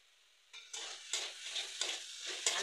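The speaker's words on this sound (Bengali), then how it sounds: "ভালো করে নারকেলটা ছানি মারতে হবে" Grated coconut and sugar, with cardamom, stirred in a pan in a rhythmic series of about five bright, gritty scraping strokes, fairly close and clear, with no one speaking.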